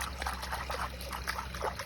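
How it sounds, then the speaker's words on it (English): Water splashing and trickling in a painted turtle's tank at feeding time, soft repeated splashes at close range with no talk. "He'll hear the splashing,"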